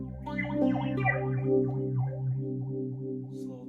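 Mu-Tron Bi-Phase phaser pedal set to a sine-wave sweep on fairly extreme settings, giving a steady, smoothly swirling tone that rises and falls continuously over sustained notes, loud and alone.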